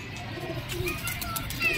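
Soft, low cooing of Teddy pigeons close by in Lahore, with gentle rolling coos and faint chirps over a quiet background.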